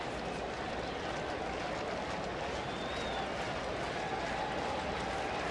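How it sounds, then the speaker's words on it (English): A sellout crowd at Great American Ballpark, during a Minnesota at Cincinnati baseball game, chants for a pitcher's ninth strikeout: a dense, steady, loud crowd roar that fills the whole stretch. "Rhythmic chant wanting number 9."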